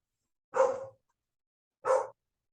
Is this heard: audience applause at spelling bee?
no